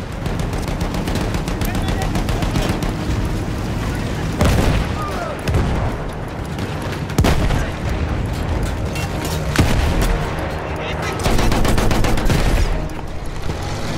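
Battlefield 1 combat with a field gun: dense, continuous gunfire and heavy booming blasts recur at intervals over a rumbling battlefield din, loud and close.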